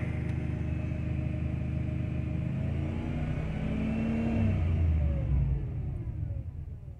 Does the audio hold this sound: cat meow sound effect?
no